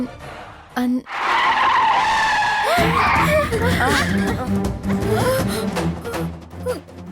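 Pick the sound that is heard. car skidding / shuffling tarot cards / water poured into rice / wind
car skidding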